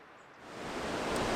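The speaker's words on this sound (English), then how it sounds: "And it's very windy." Strong wind on a Fair Isle walkway, a broad rushing gust that swells from moderate to loud over a second or so, close and unbroken, with no voices.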